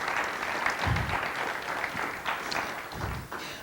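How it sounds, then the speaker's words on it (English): A crowd at a candlelight vigil applauds steadily, a dense wash of clapping that holds at an even level throughout, with no talking on top. "So give him a round of applause for this."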